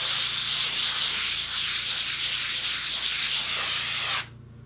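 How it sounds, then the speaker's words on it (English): Brisk hand sanding of metal on a cracked ceiling or wall seam, quick scratchy rubbing strokes repeating steadily at close range, then stopping abruptly near the end. "just give the metal a quick sanding"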